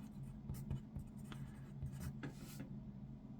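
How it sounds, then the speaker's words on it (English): A pen scratches across paper drawing a line, a close, quiet series of scraping strokes with short pauses between them, and no talking. "Draw us a little line."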